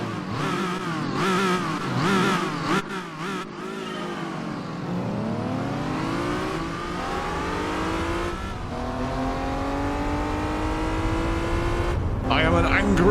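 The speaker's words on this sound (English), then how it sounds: "Oh, and the TVR Speed 12 is one of the cars we're up against. Oh, listen to that sound." A TVR Speed 12 engine roaring in Gran Turismo 4, revving up through the gears with rising whines and brief shift breaks, loud and continuous, with someone talking over the early part.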